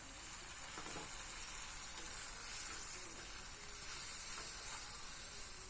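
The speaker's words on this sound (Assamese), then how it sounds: "এনেকৈ মই 2বাৰ পানী দি মাছখিনি ভালকৈ ভাজি লৈছোঁ" Fish frying in a pan after water is sprinkled in gives a continuous, even sizzle and hiss with faint stirring ticks, heard up close with no talking.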